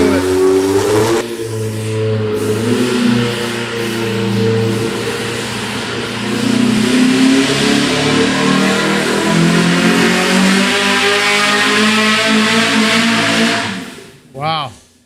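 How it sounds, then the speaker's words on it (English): EMPI engine revving hard during a dyno pull at an engine competition: a loud, sustained mechanical roar that climbs and holds for about fourteen seconds, then cuts off abruptly with a brief final burst. "Engine pull number 2 is ready to happen."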